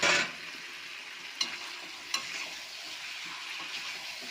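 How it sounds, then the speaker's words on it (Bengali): Fried potato and tomato going into chicken curry in a hot pan, a soft continuous sizzle with a louder burst at the start and two sharp clinks of a spoon against the pan, fairly quiet and without talking. "আলু ভাজাটা টমেটোটা দিয়ে দিলাম, আমি সব একসঙ্গে কষবো।"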